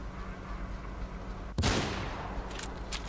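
A single sniper gunshot in the video game Mirror's Edge cracks out sharply partway through, followed by a lingering noisy tail over a steady low background hum.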